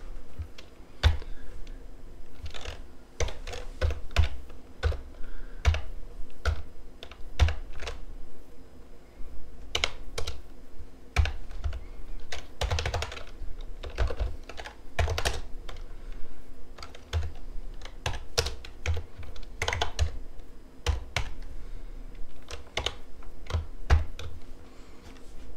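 Typing on a computer keyboard while writing code, with close, quick irregular key clicks in bursts and short pauses, steady throughout with no voices.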